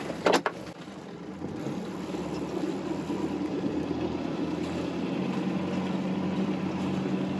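A boat's inboard engine runs steadily at low revs, a continuous low drone with a brief knock at the start, heard close while sailing under rain.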